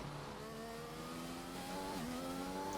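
A Formula 1 race car engine in a racing video game at the Azerbaijan Grand Prix circuit holds a high, steady whine that climbs smoothly through the revs, shifts down sharply near the end and settles again, continuous and close with no talking.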